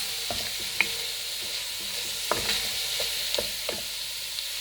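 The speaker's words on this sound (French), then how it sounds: "vous remuez bien" Tomato paste mixture stirred in a frying pan for lobster à l'armoricaine, with a steady sizzle and soft scraping spoon strokes close by, no talk.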